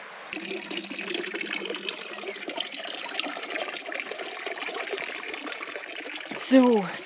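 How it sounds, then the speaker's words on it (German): Spring water trickles steadily at a mountain source on a forest trek near Le Donon in France, a soft continuous stream close by while bottles are refilled, with a brief voice near the end. "So, wir machen noch mal eine kurze Pause, um Wasser aufzunehmen. Das ist jetzt erstmal ja, die letzte Quelle."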